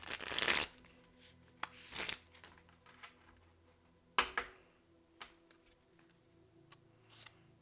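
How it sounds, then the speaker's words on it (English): Tarot cards shuffled by hand in a few quick riffling bursts, with softer taps and card handling between them, close and fairly quiet. "I'll shuffle it one more time"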